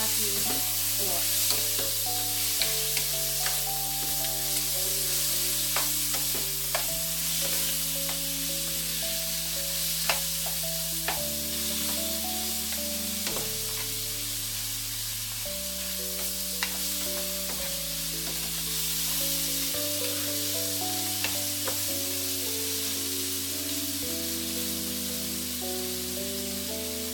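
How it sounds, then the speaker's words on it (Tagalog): Pork sautéing in a pan for a spare ribs stir fry with tomato, a steady dense sizzle and crackle running continuously under background music. "igigisa natin yung ating pork."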